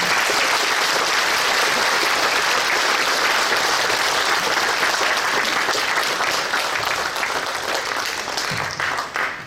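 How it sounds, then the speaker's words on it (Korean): A church congregation at a dedication service for a new sanctuary breaks into loud, sustained applause, a thick crowd of clapping that stays full and then starts thinning near the end, with no talking. "나오실 때 우리 박수로"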